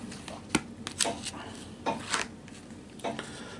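Playing cards are shuffled by hand for a mediumship card reading, a run of quick riffling bursts and soft slaps separated by short pauses, close and fairly quiet.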